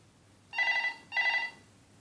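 A continuity tester beeps as an optocoupler circuit is shorted, giving two clear tonal rings of about half a second each, separated by a short gap, close and alone over a quiet background.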